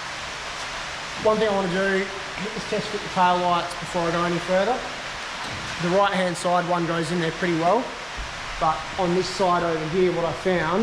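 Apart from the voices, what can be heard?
rain falling outside the workshop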